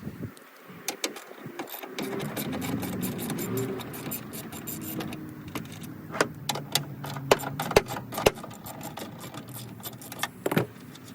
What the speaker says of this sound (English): So let's go ahead and loosen these bolts up.